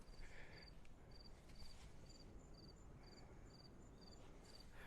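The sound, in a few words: crickets chirping near a beach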